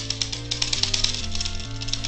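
Keys clacking on a Sharp X68000 computer keyboard in quick, irregular taps over steady electronic game music, with several presses bunched close together and no speech.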